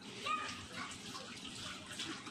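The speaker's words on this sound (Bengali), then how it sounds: "আমি থালবাটিগুলি ধুয়ে নিচ্ছি" Dishes are washed in a kitchen sink with tap water running, a steady close splashing and trickling flow with faint clinks of plates and bowls throughout.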